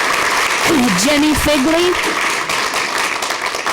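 Steady crowd applause fills a school governing board meeting while a single voice briefly speaks over the clapping, which continues throughout.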